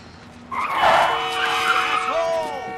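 Tires of a car skid and squeal on an icy road, one long sharp screech rising and bending in pitch over a couple of seconds, loud and close, with no talk.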